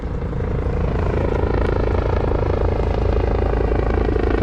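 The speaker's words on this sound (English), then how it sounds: "That's a cool helicopter." A helicopter's rotor thuds steadily overhead, a loud, continuous throbbing drone filling the whole span.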